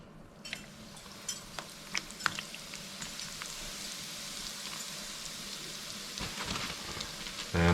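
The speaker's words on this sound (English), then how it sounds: "So now I'm going to get my pieces of beef out. We're going to fry them." Beef pieces go into hot vegetable oil in a wok, setting off a steady, moderately loud sizzle with scattered pops and crackles and a louder burst near the end.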